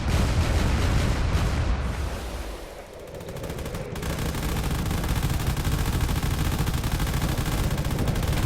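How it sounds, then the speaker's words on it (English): Battleship cannon fire in the Drone Wars game booms in a dense, loud barrage of rapid shots and explosions, dipping briefly before rising again into sustained heavy gunfire. "All the cannon fire coming off of that battleship is really doing"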